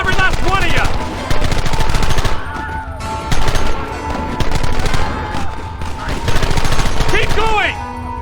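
Rapid gunfire in Red Dead Redemption, loud repeated bursts of shots in clusters with brief gaps, voices shouting intermittently over the shooting.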